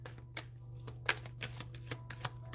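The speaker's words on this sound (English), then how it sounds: "Shuffling." Tarot cards shuffled close up in a quiet room, a run of soft riffling taps and flicks with a few sharper snaps, no voices.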